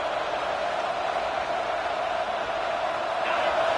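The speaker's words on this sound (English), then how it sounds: "This crowd bringing the energy and noise early." Steady stadium crowd roar from an NCAA 25 college football video game, a dense, continuous wash of distant cheering that holds at an even level throughout with no clear voices.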